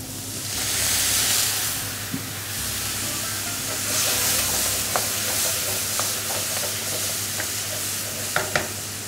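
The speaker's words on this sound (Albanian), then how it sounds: "E shuajmë pak me verë të bardhë." A splash of white wine hits hare meat frying in a pan, bringing a louder hissing burst of steam that settles back into a steady sizzle with occasional sharp pops and stirring clicks.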